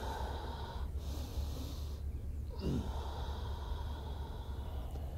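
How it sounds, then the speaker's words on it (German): Deep yogic inhalations into the lungs during a Hatha yoga session: slow, airy breaths drawn in close to the microphone, one long noisy intake standing out, without any talking. "Hoch in die Lunge einatmen"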